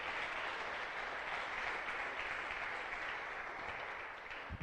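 Congregation clapping in church during a sermon, a steady dense wash of applause that carries evenly throughout, fairly loud and close, with no talking over it.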